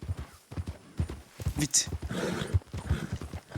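Horse hooves clip-clop at a trot in the Red Dead video game, close and rhythmic beneath a man's speech.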